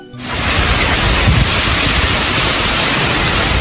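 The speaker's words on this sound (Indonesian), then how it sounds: "Angin kencang menerpa desa kerajaan." Strong wind sweeps over a royal village in a loud, dense, continuous rushing roar that rises abruptly at the start and holds steady without voices.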